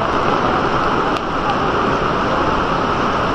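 Heavy rain pours steadily and loudly during a flood on the Marikina River, a dense, continuous wash of noise that fills the whole stretch with no voices.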